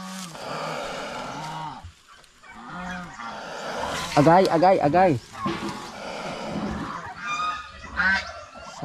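An aggressive turkey on a farm lets out repeated loud honking calls, strongest in the middle, while a person speaks over and between the calls.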